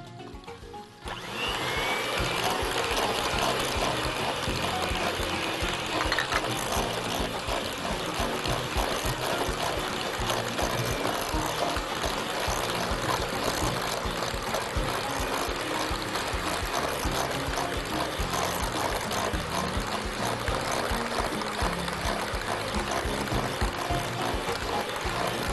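Eggs and batter ingredients for rumoush el sett, an Egyptian syrup-soaked dessert, beaten continuously with an electric mixer, a steady loud whirring churn that runs unbroken for the whole stretch with no talking.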